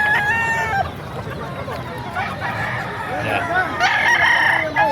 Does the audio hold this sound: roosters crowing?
yes